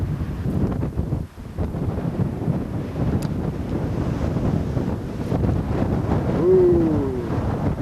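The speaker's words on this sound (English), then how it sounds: "The wind is howling up here." Strong wind howls and buffets across the Mojave Point overlook at the Grand Canyon, a steady loud roar of gusts with no clear pauses.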